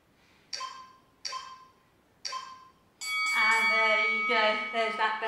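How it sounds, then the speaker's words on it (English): A workout timer bell rings three times at a steady interval during an at-home cardio and sculpting session with weights, each strike clear and decaying, followed by a louder, sustained bright ringing flourish. "There's that bell."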